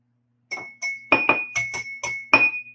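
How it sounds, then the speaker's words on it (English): Six or seven bright ringing glass tones, each struck or scraped sharply with a comb's edge and sustaining a clear pitch, spaced irregularly with short pauses between; loud and close, no voices. "you can use the edge of the comb to make music also with the glass"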